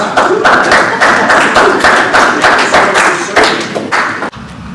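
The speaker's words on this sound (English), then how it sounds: "We should give these people some applause." Applause fills a city council meeting chamber, with many hands clapping steadily and loudly for several seconds before the sound cuts off.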